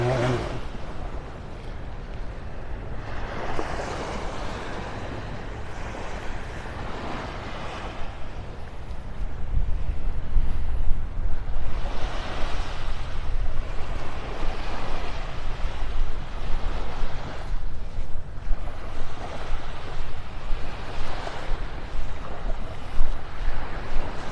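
Steady wind blowing across a beach at Pelican Bay in Naples, Florida, with surf washing beneath it; the gusting rumble grows louder and fuller midway and stays strong to the end, with no talking.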